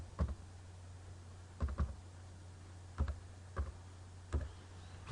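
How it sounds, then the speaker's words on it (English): Sparse keystrokes on a computer keyboard as a number is entered, short clusters of clicks spaced about a second apart over a low steady hum, with no talking. "here's where I'm going to type in the number that I wrote down"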